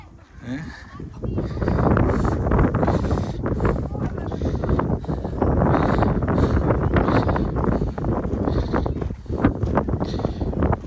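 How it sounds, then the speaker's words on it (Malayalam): Strong gusty wind at a hilltop in Chikmagalur, Karnataka buffets the microphone in loud, roaring bursts, with people talking underneath. "എന്താ കാറ്റിലേ അടിപൊളി കാറ്റ്"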